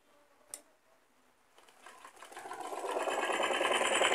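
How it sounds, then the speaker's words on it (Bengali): A sewing machine stitching cloth starts after a quiet moment with a small click, its motor whir rising gradually and growing louder and steadier toward the end. "কাপড় সেলাই করে দেখাই দিচ্ছি।"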